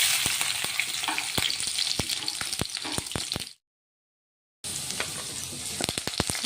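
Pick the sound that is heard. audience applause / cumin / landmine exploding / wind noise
cumin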